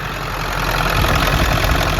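An old Ford 7.3 Powerstroke diesel engine in a 1994-1997 OBS truck idles steadily with a failing vacuum pump, giving a close, constant rumbling drone with a thin high whine above it and no voices.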